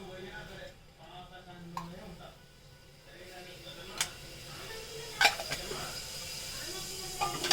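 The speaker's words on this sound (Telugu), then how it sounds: "ప్రస్తుతానికి నేను గీలోనే కొంచెం గరం మసాలాస్ అన్నీ ఫ్రై చేస్తున్నాను." Garam masala spices frying in ghee inside a pressure cooker, a soft low sizzle with occasional metallic clinks of a spoon against the pot, faint and close.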